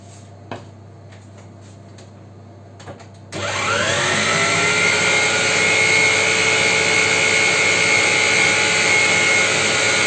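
A kitchen robot mixer starts up abruptly after a few faint clicks and knocks, then runs loud and steady with a rising whine as it blends cake ingredients, with no talking over it.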